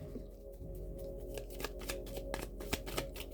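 Tarot cards pulled from the bottom of a deck and handled, producing soft sliding rustles and a string of light flicks and snaps at close range, with no one talking.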